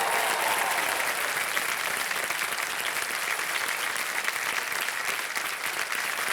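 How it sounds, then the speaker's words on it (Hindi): A studio audience on the quiz show Kaun Banega Crorepati Season 14 gives a continuous wash of applause, an even hiss of many hands clapping at once that holds steady for several seconds. "मनीषा जी तालियां बच्चे आपके लिए।"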